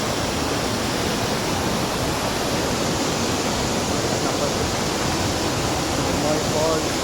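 Ermayi Falls in Karnataka roars as a steady, dense wash of falling water, loud and unbroken throughout with no rise or fall.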